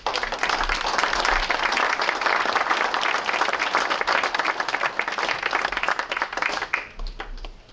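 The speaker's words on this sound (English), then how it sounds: "Nice round of applause." An audience at a panel on MMFs in McMinnville breaks into a round of applause, dense steady clapping from many hands that holds strong and then thins out near the end.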